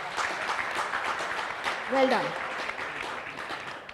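Audience applause at a youth leadership summit panel in New Delhi, a moderate wash of clapping filling the hall for a few seconds while someone speaks briefly over it.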